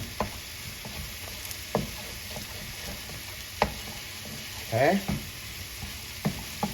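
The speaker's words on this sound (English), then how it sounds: "Gotta keep it moving so it doesn't burn too much here, because that pan is hot." Chicken stir fry with Pad Thai noodles sizzles steadily in a hot pan, with scattered scrapes and clacks of stirring throughout and a brief spoken word near the end.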